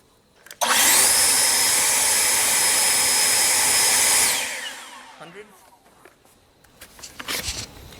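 A loud, steady motorized whine of an EGO battery leaf blower starts abruptly, runs for a few seconds, then winds down, leaving quieter handling noises.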